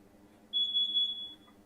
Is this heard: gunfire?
no